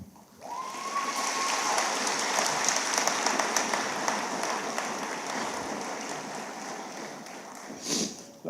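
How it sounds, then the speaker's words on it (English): Sustained crowd applause at the Iron Mountain High School 2025 commencement ceremony, a dense, steady wash of clapping lasting several seconds and tapering slightly toward the end. "So a round of applause to not only my friends"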